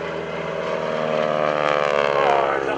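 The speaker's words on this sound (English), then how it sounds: "Now that loud rapping sound that you hear are the tips of the propeller as they go supersonic." A Stearman biplane's radial round engine drones at an airshow, its propeller tips giving a loud rapping buzz over a throaty rumble, steady and close throughout.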